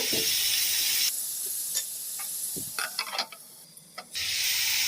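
Grated cabbage frying in a pan for a cabbage and tomato curry: loud close sizzling that drops away for a few seconds while stirring clacks and scrapes sound, then the sizzle surges back.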